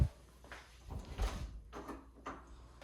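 The door to a walk-in closet in a brick house is opened, giving a few soft, muffled clunks and knocks close by in a quiet room.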